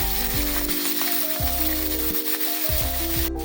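Curry leaves sizzle and fry in hot oil in a pan, a steady close crackle lasting a few seconds with no talk, while a tonal background sound runs underneath.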